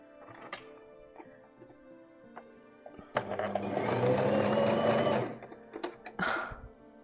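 A home sewing machine sews a straight seam on a dress, with scattered small clicks and handling noises before a close, loud two-second run of stitching, then a shorter burst afterward.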